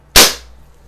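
Crosman 1600 CO2 BB pistol firing a single shot, a sharp, loud crack with a quick onset that dies away in under half a second.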